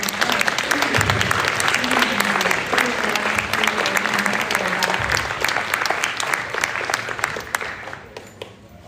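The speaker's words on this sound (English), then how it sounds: "I think we have to applaud that again to everybody" A sit-in crowd of students for Palestine at Aalto University claps loudly and continuously with some sharp individual claps. A voice is faintly audible underneath before the applause thins out near the end.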